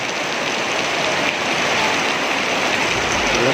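Heavy rain pours down in a dense, continuous hiss, drumming steadily on a nearby tent with no pauses.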